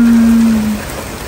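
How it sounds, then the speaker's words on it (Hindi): Steady rain falls outside in America as a dense, loud, even hiss, with a low tone fading midway and no talk. "बारिश, ये देखिए बारिश।"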